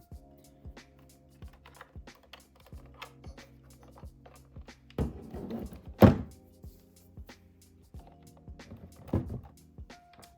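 Pliers pulling plastic interior clips from a 1990s EK Honda Civic: a run of small clicks and ticks, then a few louder close thunks and snaps as clips pop free, no talk.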